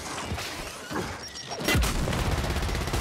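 A grenade blast and gunfire in Gears 5 Horde mode on the Allfathers arena: a loud, close explosion bursts out partway through, then dense, continuous firing and rumble carry on to the end.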